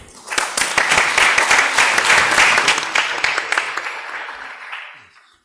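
Audience applause welcoming a speaker at a 2018 arbitration congress at PUCP: dense, steady clapping from a sizeable crowd that swells quickly, holds, then tapers away to silence.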